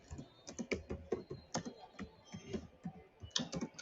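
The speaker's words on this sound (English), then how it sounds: "I am typing stuff as we talk about it" Rapid clicking of keys on a computer keyboard, steady typing close up with an uneven rhythm and no talk.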